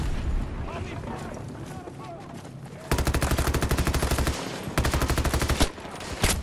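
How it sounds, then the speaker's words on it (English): A grenade explosion and rapid gunfire in Battlefield 2042: a muffled blast and rumble gives way to loud, fast automatic bursts that stop, then resume, with a voice talking over the opening seconds. "Throw a grenade in there, to see grenades coming out."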